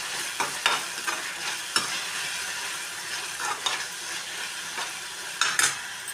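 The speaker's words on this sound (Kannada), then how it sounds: "ಹಾಕ್ಕೊಂಡು ಚೆನ್ನಾಗಿ ಇದನ್ನು ಮಿಕ್ಸ್ ಮಾಡ್ತೀವಿ." A spoon stirs tomato curry as turmeric fries in hot oil, with a steady sizzle and periodic scraping strokes against the pan.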